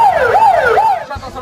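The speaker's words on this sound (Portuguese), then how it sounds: "A última vez que Malala Yousafzai tinha ouvido as sirenes paquistanesas foi em 2012." A Pakistani emergency siren wails loud and close, rising and falling in smooth repeated sweeps over about a second before cutting off.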